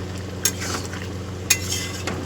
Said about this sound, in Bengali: আমি আবারও একবার ঢাকনাটা উঠিয়ে একটু নাড়াচাড়া করে দেব।